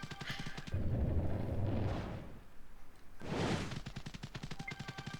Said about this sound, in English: It's good to use a cannon bullet to blow up